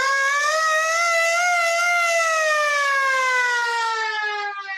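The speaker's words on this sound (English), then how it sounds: "revving the siren" A single siren wails loudly and steadily, its tone holding high then slowly winding down in pitch as it fades at the end.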